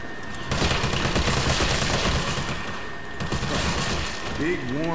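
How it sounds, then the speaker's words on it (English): A Resident Evil 3 flashbang explosion and gunfire, a dense loud burst of overlapping blasts and rattling shots over five seconds, with a voice starting right at the end. "Is that a flashbang?"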